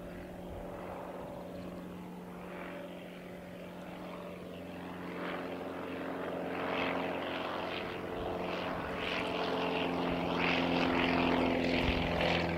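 Propeller aircraft passing near the Canterbury Aero Club at Harewood, a steady droning engine with a prop hum that grows gradually louder as it approaches over about twelve seconds.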